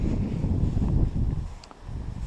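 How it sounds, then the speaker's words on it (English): Steady low rumbling gusts of wind buffeting the microphone, easing slightly toward the end, with no voices. "So of course it's another fucking windy day."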